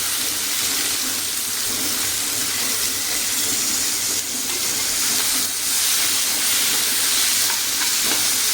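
Green plantain fries in hot oil in a home kitchen, giving a steady, close, bright sizzle that hisses on without a break and with no voices.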